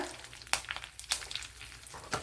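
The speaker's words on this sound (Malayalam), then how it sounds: "ഇവിടെ കടുക് പൊട്ടിയിട്ടുണ്ട് ഇതിലേക്ക്" Mustard seeds and dried chili sizzle in hot oil, a faint steady frying hiss broken by a few sharp popping crackles.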